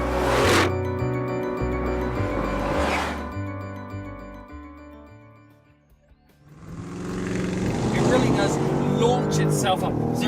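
A 2014 Bentley Continental GT V8 S with twin turbos, driven fast on a racetrack: loud engine note stepping up through the gears, easing off to a near-quiet dip, then swelling back with rising revs and wind rush.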